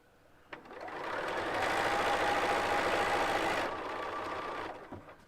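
A sewing machine stitches through a quilt made of 4-patch blocks, a steady close mechanical whir that speeds up, holds for a few seconds and then slows, with no voices.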